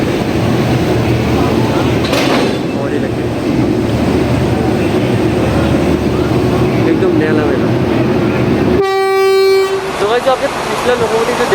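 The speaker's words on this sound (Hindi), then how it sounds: "जैसे कि आप देख सकते हैं नया लोकोमोटिव ट्रेन के साथ अभी कपल हो रहा है" A train on the Pawan Express route during coupling of a new locomotive at a station, with steady rumbling under people talking, then a long sustained horn blast near the end.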